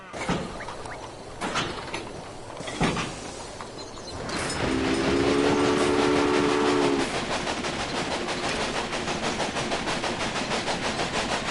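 A train in Railway Empire on PS4 rumbles along with a rhythmic clickety-clack, sounding a horn midway as the steady rolling noise builds and continues.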